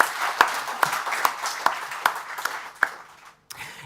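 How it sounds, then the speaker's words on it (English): Sparse, slow handclaps from a conference audience, a few evenly spaced sharp claps at moderate level fading out near the end. "I think that claps would be quite welcome."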